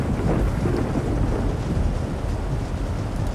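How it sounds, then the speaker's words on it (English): Thunderstorm at sea in the submarine game Silent Hunter 3 (GWX mod), with a U-boat plowing through heavy weather: a loud, continuous rolling rumble of thunder blended with steady rain and wind, no speech. "Very poor visibility. Oh, yeah, thunderstorm."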